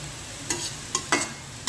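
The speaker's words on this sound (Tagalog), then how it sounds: "Ginisa sa bawang at asin lang na repolyo" Shredded cabbage sautéed in a pan with garlic and salt, no water added, gives a low sizzle broken by a few sharp stirring scrapes and bursts of frying at a steady, close level.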